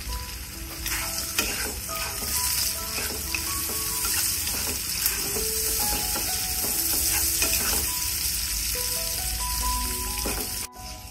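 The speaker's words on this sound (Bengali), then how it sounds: "চিংড়ি মাছগুলো দিয়েও ভেজে নেব কিছুক্ষণ" Shrimp fry with onions in a pan for a Bengali shrimp and Malabar spinach dish, a loud dense crackling sizzle running throughout with spatula stirring scrapes mixed in, close up and without speech.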